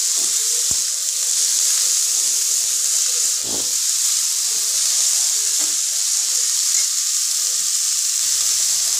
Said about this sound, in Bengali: তো জল ঝরানো শাকটা আমি এর মধ্যে দিয়ে দিলাম। এবার একটু ভালো করে নাড়াচাড়া করে নেব।